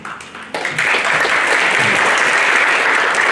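Steady, dense applause from a university audience during a human rights institution outreach session, rising quickly after a quieter start and holding loud and even to the end.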